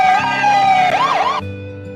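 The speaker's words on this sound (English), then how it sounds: "fire truck," A fire truck siren wails up and down close by, its tone sweeping and warbling loudly over a low engine rumble before cutting off abruptly.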